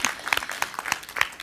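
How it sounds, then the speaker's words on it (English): Audience applause in a lecture hall, a short burst of scattered, moderately loud hand claps from a modest crowd with uneven rhythm. "Yeah, clap for that one."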